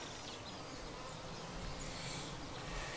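Honeybees at an open hive during a queen check, a steady dense buzz of many insects close by that runs unbroken throughout, with no talking.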